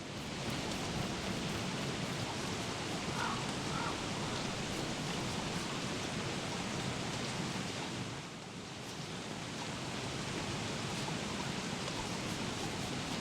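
Steady rain falling outdoors in winter, a dense continuous hiss that stays loud and even throughout, with a brief dip partway through and no voices.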